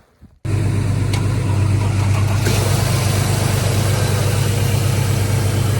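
A 2011 Mercedes-Benz C300 engine cranks and catches quickly, then settles into a loud, even, steady idle heard up close with a deep hum.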